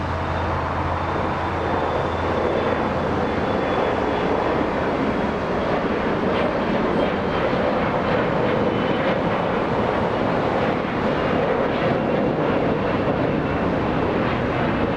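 Steady, loud roar of a passenger jet engine at Los Angeles International Airport, broadband and continuous with wind buffeting the microphone throughout, no voices.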